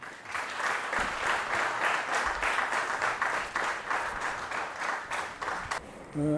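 An audience at a medal ceremony applauds the ambassador's speech with steady, sustained clapping for several seconds, fairly distant and moderate in level, before it fades out.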